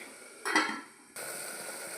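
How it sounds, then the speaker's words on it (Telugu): Chicken coated with salt, chilli and turmeric is stirred in oil in a pot, giving a brief scraping clatter of the spoon against the pot, then a steady sizzle. "వేసిన తర్వాత ఇట్లా బాగా కలుపుకుంటాను."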